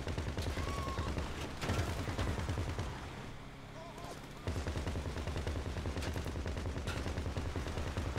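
Dense, continuous gunfire in GTA V during a mission playing as Franklin and Lamar: rapid overlapping shots that drop out briefly midway and then resume, with occasional voices under the shooting.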